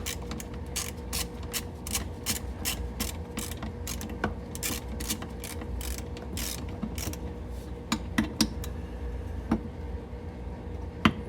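Ratchet wrench tightening the driveshaft center bolts on a Mercedes W222, a close, rapid run of clicking that continues evenly throughout, with a few sharper metallic clacks toward the end and no talk.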